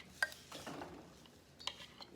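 A spoon stirs barbecue chicken filling with barbecue sauce in a pot, giving a few soft clinks and scrapes against the metal, with two sharper taps near the start and end. The sounds are fairly quiet and there is no talk.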